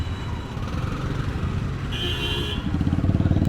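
A motorcycle rides a road from Chittagong toward Khagrachhari, its engine droning steadily up close with road and wind roar, a brief higher tone or horn partway through, and the engine pulsing harder near the end.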